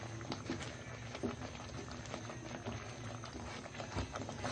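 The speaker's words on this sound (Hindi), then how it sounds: "हम इस तरीके से चम्मच से बराबर इसको हिलाते रहेंगे" Semolina cooking in a pot while a spoon keeps stirring it, giving a steady, soft bubbling and pattering texture with a few faint knocks, close but quiet, with no talking.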